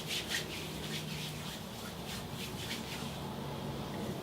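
Hair pomade or clay rubbed into hair by hand gives a steady, soft, close rubbing and swishing with faint rhythmic strokes, heard alone and quiet.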